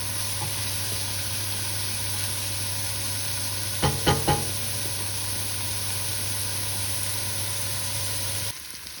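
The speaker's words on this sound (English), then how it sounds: "we're gonna give it a good stir and we'll let them cook for another 2 minutes" Garlic, chili and spring onions sizzle steadily in a pan under an even hiss, with a brief cluster of three or four scraping stirs midway. The sizzle cuts off abruptly near the end, and no one speaks.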